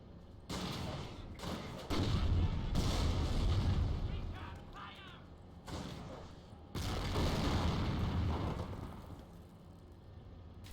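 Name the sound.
PIAT anti-tank weapon fire in a video game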